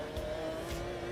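A race car engine in a sim racing game revs hard under throttle during a competitive online race. It gives a sustained, steady drone with a slight pitch shift and no talk over it.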